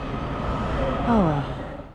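A DC Metro train pulls out of the station with a steady, loud rumble, while a voice cries out over the noise.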